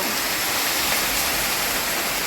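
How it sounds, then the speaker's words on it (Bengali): A little water poured into a pan of fish curry with oil and potatoes, giving a loud, continuous rushing hiss that stays steady and close, with no voice. "এই যে অল্প একটু জল দেব, একদমই অল্প।"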